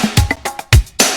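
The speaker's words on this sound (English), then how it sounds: "This one is a lot more percussion forward. It has a lot more bongo support" A short percussive loop: deep kick thumps mixed with quick hand-drum taps like bongos, punchy and close.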